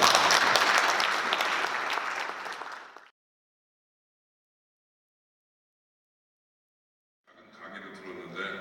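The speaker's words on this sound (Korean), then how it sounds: "큰 박수로 환영해 주시면 감사하겠습니다." Audience applause welcoming a lecturer at a Korean economics lecture, dense clapping for about three seconds that fades out, then silence before another softer burst of clapping returns near the end.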